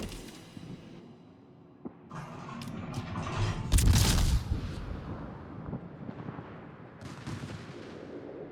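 Warship guns fire armor-piercing shells in a naval combat video game, a sharp report followed by a heavy, rolling boom that swells and fades over several seconds amid mechanical clatter, with quieter distant thuds later.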